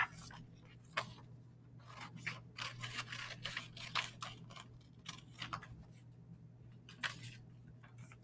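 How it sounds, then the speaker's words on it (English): Scissors cutting paper to trim a worksheet piece, a series of faint, crisp snips and crunches at an uneven pace, close by in a quiet room. "so I'm going to cut it in 2 places"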